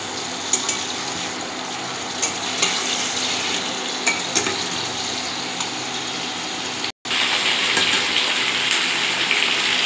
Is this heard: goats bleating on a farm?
no